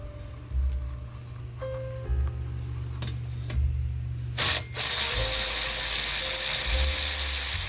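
Ratchet clicking steadily while loosening 14mm brake caliper bolts on a Nissan Xterra, Frontier or Pathfinder, in close repeated bursts followed by a louder, faster run of clicks near the end, with no talking.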